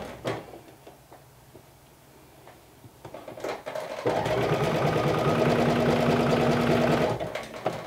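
A sewing machine runs steadily, stitching a seam in black thread for a Sinclair Lotte garment, loud and close for about three seconds after a few quieter handling knocks and taps.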